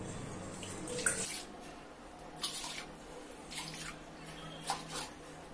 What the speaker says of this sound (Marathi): ज्या वाटीने मी पीठ घेतलेलं आहे त्याच वाटीने मी पाणी घेणार आहे.